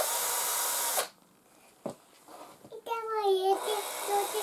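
Cordless screwdriver spinning up indoors, a short high whine that rises in pitch, follows a hiss and a brief thud, and sits among a voice.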